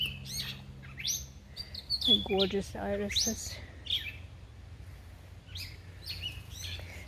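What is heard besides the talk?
agitated bird chirping outdoors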